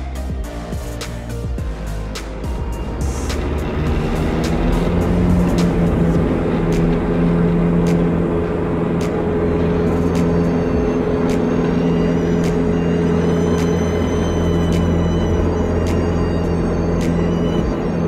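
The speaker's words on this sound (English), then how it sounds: "A little soft field takeoff to start our day." Diamond DA40 light aircraft engine roaring steadily through a soft field takeoff on a cold day, a loud, continuous droning hum heard close up from inside the cabin, with no talk over it.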